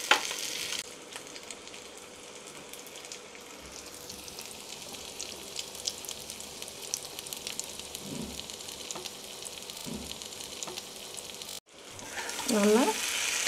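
Mutton chukka sizzles and fries in a pan, a soft, steady crackle with occasional scraping stirs, ending with a brief louder clatter; no voices.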